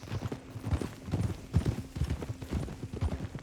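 A horse trots in Red Dead Redemption 2, its hooves clip-clopping in a steady rhythm on the ground. The footfalls are moderately quiet against a soft background.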